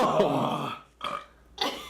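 A person lets out a long, loud, guttural burp, followed by two shorter burps after brief pauses, close up with no other talk.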